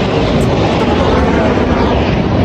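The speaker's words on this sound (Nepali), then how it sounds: "यहाँनिर चाहिँ प्लेन उडेर मेरो भोइस सुनेन होला होइन" An airplane passing overhead, a steady loud broadband engine roar with strong low rumble sustained without breaks, no speech heard.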